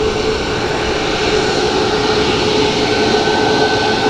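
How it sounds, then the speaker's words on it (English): Ryanair Airbus A330 arriving at Dublin Airport, a loud, steady jet engine roar throughout with a constant tonal whine, heard near and without speech. "So Ryanair A330 in from LA next."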